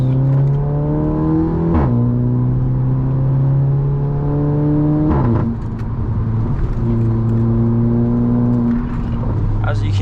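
A Volkswagen Polo GTI 6C driven hard on twisty back roads, its engine pulling loud and close through repeated upshifts, each gear change marked by a brief break and a drop in pitch.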